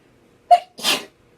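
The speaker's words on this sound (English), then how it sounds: "And here comes that sneeze again." One close, sharp human sneeze: a quick high intake followed by a breathy burst, in an otherwise quiet room.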